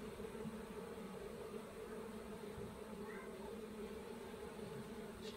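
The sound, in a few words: honey bees buzzing around hives during spring inspection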